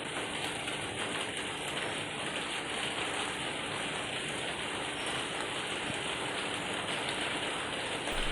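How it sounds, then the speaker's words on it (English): Steady rain falls outside a conservatory, a dense, even hiss of drops on the glass that runs unbroken and moderately loud, with no talk over it. "It is also raining outside."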